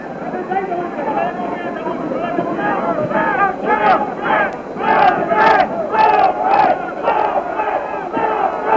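Boxing arena crowd at a Sugar Ray Leonard versus Wilfred Benitez fight, a dense steady roar of cheering and shouting that swells into louder surges partway through, continuous throughout.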